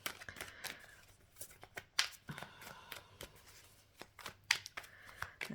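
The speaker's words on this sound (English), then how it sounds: "I can't shuffle. Let's try again." Tarot cards are shuffled by hand close up, with repeated soft riffling flutters and light taps in irregular bursts, fairly quiet.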